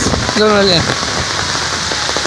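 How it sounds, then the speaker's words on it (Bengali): Heavy rain pours steadily at a river landing, a dense hiss of drops on surfaces, with a brief tonal whistle-like sound near the start. "দেখতে পাচ্ছেন খুব বৃষ্টি হচ্ছে জোরে জোরে"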